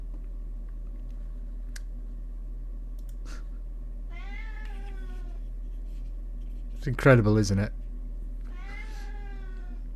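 A house cat meows a few times at moderate distance, short rising calls spaced apart, under a continuous low electrical hum while people talk nearby.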